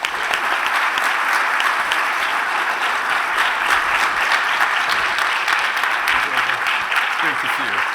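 An audience at a Harvard event applauding warmly to welcome a speaker on stage, dense sustained clapping filling the room at even loudness throughout.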